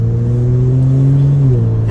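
A Kia Stinger fitted with an MBRP 2.5-inch cat-back dual rear exit exhaust accelerates on a highway, giving a loud, close, droning engine note that climbs steadily and then dips near the end as it shifts gear.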